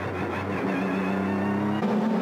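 GT300-class race cars pull away at the start of a Super GT race at Okayama, a continuous engine drone with shifting tones that swells briefly near the end, heard without any talk.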